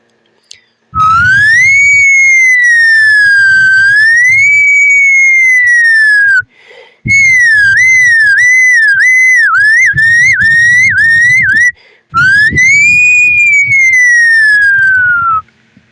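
A loud whistled imitation of a siren, rising and falling tones in three long bursts with short pauses between.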